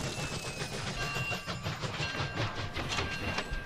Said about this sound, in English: Oh, it's a long train. Passenger train, looks like.